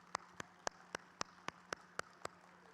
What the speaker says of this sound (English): I want to take a moment to clap for both our 2020 and our 2021 graduates